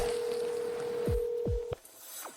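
A telephone call being placed: a steady dial tone holds for over a second, then a few short descending beeps and clicks as the number goes through, fairly close and clear with no talking.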